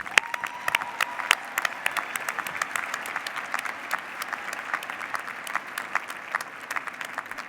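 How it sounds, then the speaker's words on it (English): A commencement crowd applauds steadily, a dense patter of many hands clapping at moderate distance, with no voices rising above it. "Let's give them a hand of applause."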